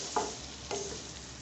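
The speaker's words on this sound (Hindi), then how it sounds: "इसको मिक्स कर दें।" Tomatoes and green chillies frying in a pan for cluster bean curry, two brief scraping stirs over a low background sizzle, close and without speech.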